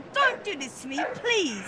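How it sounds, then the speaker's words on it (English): A terrier yips and whimpers in a short run of high, bending barks, close and loud, overlapping a person talking. "That is my dog."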